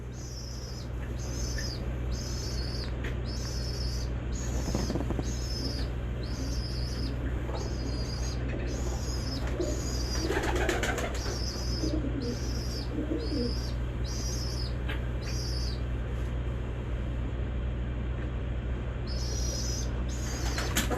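Caged pigeons with closed tails and closed pairs murmur in soft repeated coos, with a burst of flapping wings midway, all over a steady background hum and no talking.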